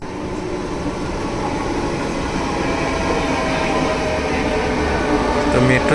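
Metro train pulling into a Bangalore station platform, a loud continuous rumble and rolling roar that builds slightly and holds steady to the end.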